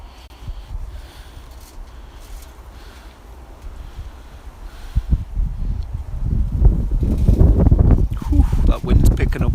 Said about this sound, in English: that wind's picking up